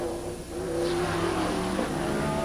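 Race cars accelerate hard past on the Trois-Rivières street circuit during a 1982 Trans-Am/Can-Am meeting, a loud, close engine roar that rises and holds steady with no voices over it.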